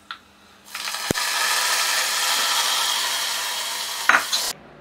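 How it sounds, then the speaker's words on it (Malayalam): Cucumber pachadi for a Vishu sadya being stirred while mustard seeds sizzle and pop in hot oil, a steady close frying hiss with a sharp tap near the start and a clatter toward the end, no talk. "ശരിക്കും പൊട്ടി തീരാത്തത് ഇങ്ങനെ ഇളക്കുമ്പോൾ ഉള്ളിൽ പൊട്ടാത്ത കടുകുണ്ടെങ്കിൽ അതും കൂടി പൊട്ടിക്കോളൂ"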